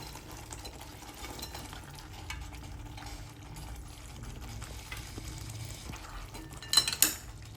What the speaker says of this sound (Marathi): आता आपण याच्यामध्ये हे आलू मटर पनीर मिक्स करूया.